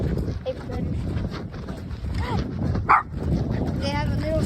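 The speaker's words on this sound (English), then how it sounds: "It's my other two dogs barking." Two dogs barking repeatedly in the background outdoors during a walk, sharp yips and woofs scattered through the clip, with someone talking over them.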